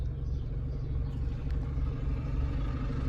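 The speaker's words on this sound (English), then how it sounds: "Here's a truck coming by." A large truck rumbles by on a rural road with cows nearby, a steady low engine drone close at hand that holds level throughout, with no talk.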